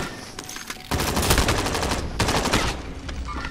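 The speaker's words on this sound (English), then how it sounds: "I was shooting the fucking railing" Rapid gunfire from Call of Duty: Modern Warfare, with loud, dense bursts of automatic shots that start abruptly and continue almost without pause, briefly easing before another heavy volley.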